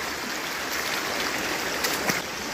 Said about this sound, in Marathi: वरती मस्तपैकी फ्लो आहे आणि इकडे पण पाणी बऱ्यापैकी आहे